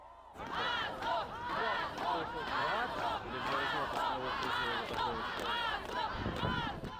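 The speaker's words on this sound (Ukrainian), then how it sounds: "Вигукували слова вдячності" Townspeople gathered on a road shout thanks to passing army soldiers, a loud, continuous crowd of overlapping raised voices and cries filling the whole stretch without pause.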